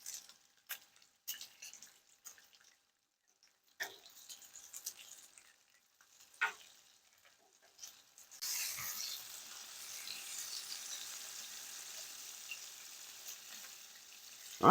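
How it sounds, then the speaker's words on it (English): Bacon sizzles in a frying pan while lunches are prepped for the week, a steady crackling hiss that takes over after several seconds of scattered clinks and handling noises. "All right, let's keep that on sizzling."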